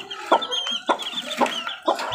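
Pet chickens cluck close by in short, repeated bursts about every half second, with a few higher squawks mixed in and no talking.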